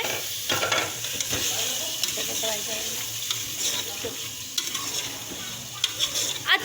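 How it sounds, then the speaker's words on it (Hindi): Beef meat frying in a pan with ginger-garlic paste for aloo gosht, a loud continuous sizzle broken by scraping and stirring clatter, with faint voices at times. "अच्छे से इसको हम फ्राई कर लेंगे।"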